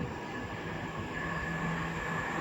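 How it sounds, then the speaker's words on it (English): An Express Turbostar diesel multiple unit passing through Edinburgh Park on the Edinburgh to Glasgow line, a steady, fairly loud rumble with a sustained engine drone and no speech. "passing through as well is going to be a Express Turbo Star from Edinburgh to Glasgow."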